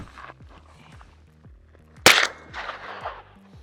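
A single sharp, loud gunshot from a test-fired gun, caught close up, with a short ringing decay and some clatter right after it. Faint rhythmic mechanical ticking runs underneath.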